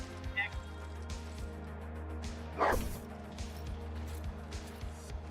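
An Arbites dog in a video game, giving a loud yelping bark in the middle of game combat sounds, with a few quieter yips around it.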